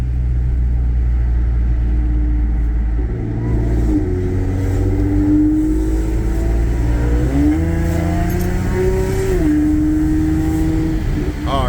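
Audi A6 3.0T with a Gibson anti-rasp muffler, a loud close exhaust note idling then climbing through several smooth rev rises and dips, deep and steady without talk.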